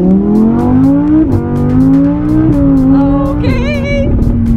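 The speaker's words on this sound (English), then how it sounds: "I'll give you guys one last pull with the new exhaust. That sounds ridiculous." A Mercedes-AMG GLE 53 fitted with a new exhaust revs hard through several gear pulls, its loud, close engine note rising in pitch, dropping at each shift, then climbing again.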